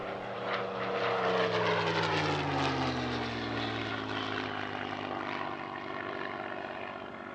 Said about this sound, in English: This Spitfire IX is another fairly recent restoration, making its post-restoration flight in 2022 and its flying display debut in 2025.